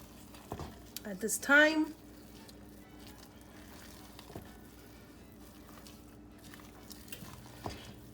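A spoon stirs ham croquette mixture in a pan, giving soft intermittent scraping and clicking at close range, with a short spoken phrase near the start.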